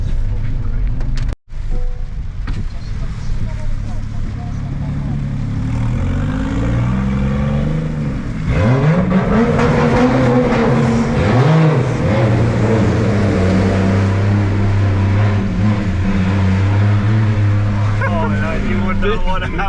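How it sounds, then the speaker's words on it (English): Cars driving around a wet race track at Ebisu, a steady roar of engines with rising and falling revs and drive-bys from passing cars, loud and continuous, with people talking nearby. "Cars everywhere."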